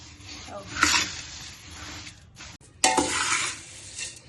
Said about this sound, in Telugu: దీంట్లో ఇవన్నీ వేసేసి మిక్స్ చేసుకోవాలి